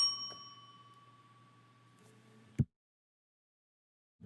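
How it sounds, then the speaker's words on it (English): Bell struck once on a live real estate talk show, a bright ringing tone that decays for about two seconds before ending in a sharp knock, followed by silence. "Hit the bell."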